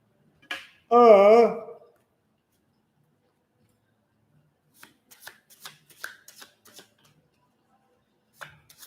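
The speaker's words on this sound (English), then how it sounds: "I'm shuffling the ones that I've already done" A deck of playing cards is riffle-shuffled close by in one loud burst near the start, followed by several faint, scattered card snaps and taps later on.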